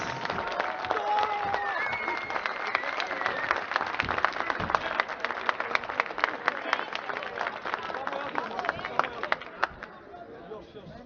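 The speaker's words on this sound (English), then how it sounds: "I kindly ask all of you to give one huge round of applause for your new world champions." A large esports crowd at a CS:GO world championship match between Argentina and Turkey claps and cheers for the new champions, a dense, steady wash of applause with sharp individual claps that continues for about eleven seconds before thinning slightly.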